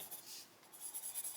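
A colored pencil lightly blends on paper in short soft rubbing strokes, a faint close scratchy whisper repeating over a brief moment with no voices.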